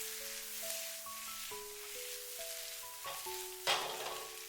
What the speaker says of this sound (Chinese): 在出锅之前加入切好的葱段，稍微的翻炒几下